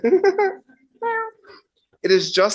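A house cat meows several times at close range, short voiced cries with clear pitch, alternating with a person speaking.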